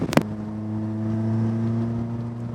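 A Honda CRX engine revving toward the red line, a steady rising drone heard from the cabin after a brief knock at the start, holding loud and even.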